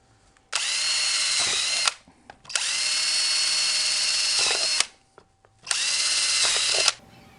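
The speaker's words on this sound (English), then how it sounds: "you're going to want to drill holes in the bottom" Power drill boring holes in the bottom cap of a PVC pipe deer feeder, three separate long whirring bursts with short pauses between them, close and loud.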